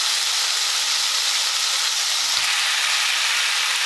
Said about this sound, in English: I'm going to throw in my onion